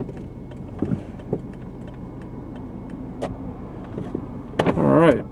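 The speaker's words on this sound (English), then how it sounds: "put the windows up" A car's power window motor whirs briefly near the end, a rising mechanical hum after a few faint clicks and knocks inside the quiet cabin.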